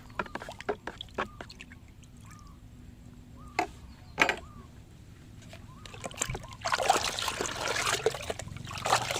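Salt being stirred into water to dissolve, with soft intermittent sloshing and trickling, a few sharper taps and splashes, and a denser burst of water noise near the end.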